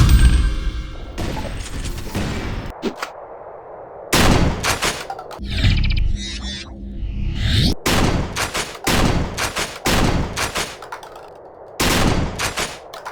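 A shotgun fires repeatedly in a first-person shooter video game, loud booming blasts spaced a second or so apart, with mechanical reload clicks between some shots.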